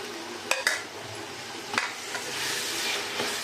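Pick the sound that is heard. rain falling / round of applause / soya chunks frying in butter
soya chunks frying in butter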